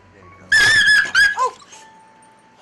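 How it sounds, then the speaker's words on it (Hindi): A dog lets out a sharp, high yelp of pain as a turtle bites its nose, followed by a couple of shorter whimpering cries, loud and close, fading into quiet. "कछुए ने अपने मजबूत जबड़ों की पकड़ से कुत्ते की नाक को इतनी जोर से काटा कि बेचारे की चीख ही निकल गई"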